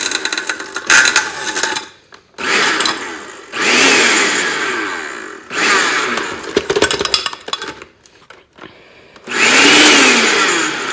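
A kitchen blender on its icy drink, ice-crushing setting grinds up an iPhone 5s, loud harsh whirring and rattling that comes in several bursts separated by short pauses.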